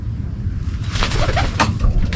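Racing pigeons readied for a second-lap north derby race coo softly in a loft, low rumbling calls repeating over steady background noise, with a few brighter rustles and flutters.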